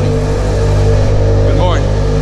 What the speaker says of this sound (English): Nothing like the good sound of a Boxster engine in a cold start.